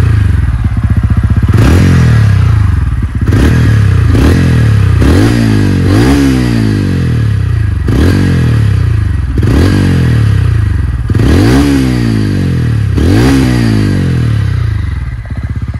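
A TVS Ronin motorcycle's exhaust note, close and loud, with repeated throttle blips rising and falling in pitch about every one to two seconds over a constant idle burble.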